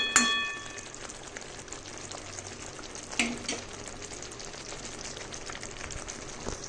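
Potol with mustard and poppy seed paste simmers in a pan, a soft steady sizzle with a couple of sharp utensil clinks near the start and middle.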